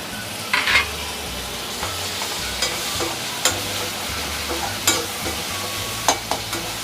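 Tomatoes fry in a pan for vadai kulambu, a steady sizzle punctuated by sharp scrapes and clacks of a spoon stirring at irregular intervals, close and clear with no talk.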